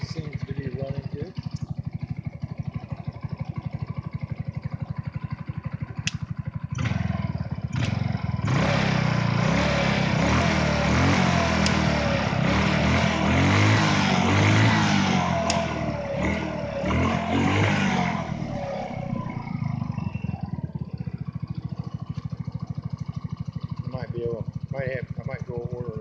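A 2015 Hammerhead GTS 150 engine runs after a valve adjustment, a steady idle that swells into a louder rev in the middle and then settles back, with someone talking over it at times.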